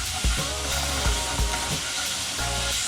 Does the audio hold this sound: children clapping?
no